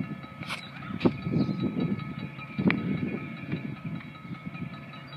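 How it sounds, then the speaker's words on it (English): Engine 8618 draws near a railroad crossing at Strasburg, Pennsylvania, with a low, uneven rumble and rattling that swells and fades, plus a couple of sharp knocks. "Here comes engine 8618."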